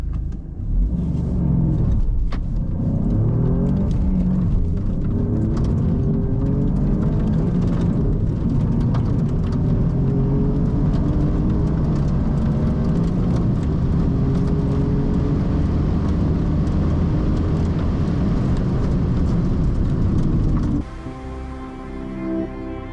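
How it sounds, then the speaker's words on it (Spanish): An Alfa Romeo Giulia Quadrifoglio sedan driven hard on a race circuit, its engine a loud steady rumble heard from inside the car, rising and shifting in pitch through gears for about twenty seconds before easing to a quieter idle. "ya estamos al volante de este Alfa Romeo Giulia Quadrifoglio"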